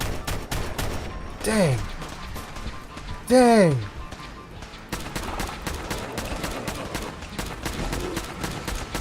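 Gunfire in Fallout 4 Far Harbor, rapid bursts of shots throughout with two loud gliding creature cries, a player briefly talking.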